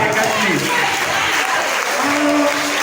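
A congregation in a French-speaking church service claps steadily for a few seconds, with voices calling out over the applause.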